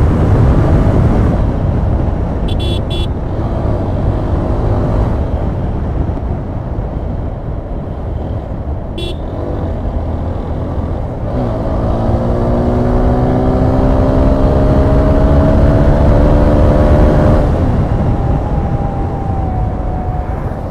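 Suzuki Gixxer and TVS Apache 4V motorcycles racing at full throttle, a loud steady engine drone under heavy wind buffeting, with rising whine as revs climb partway through.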